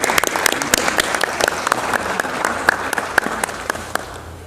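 A round of applause fills a session honoring ABBR at Brazil's Chamber of Deputies, with dense, steady clapping from a crowd that carries through the whole stretch and tapers slightly at the end.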